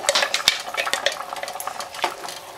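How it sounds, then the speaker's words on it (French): A flour and tomato paste mixture stirred into Moroccan harira soup in a pot, with quick scraping spoon strokes and light clinks against the metal, close and busy, with no voices. "Mélangez le tout parce qu'on ne veut pas que la farine colle au fond."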